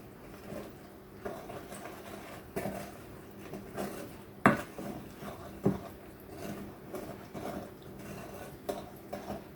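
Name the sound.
gently mixing milk, egg and flour into pancake batter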